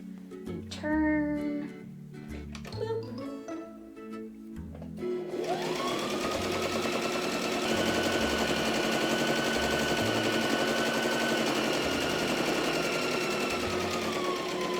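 A sewing machine stitches along the folded edge of a fabric face mask, starting after a few seconds of quiet voice and handling noise, then running in one steady, fast, continuous whir.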